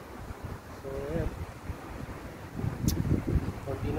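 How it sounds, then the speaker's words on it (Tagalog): Moderate outdoor wind blows steadily as a low rumble, swelling into stronger gusts near the end, with people talking over it. "Medyo mahangin."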